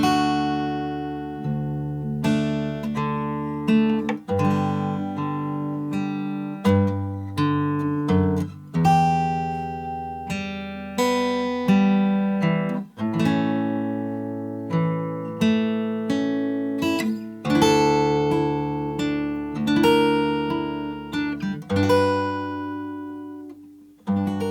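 A guitar plays a passage of a The Last of Us theme alone, with clear plucked notes and chords ringing out at a gentle, steady pace, close and moderately loud.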